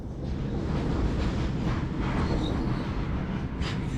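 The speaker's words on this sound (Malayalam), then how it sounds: "ഇതൊക്കെ ചരക്ക് വിമാനം അല്ല ട്രെയിൻ പോകുന്നത്" A freight train rolls by with a dense, continuous rumble and rattle of wagons, steady and fairly close, with no voices.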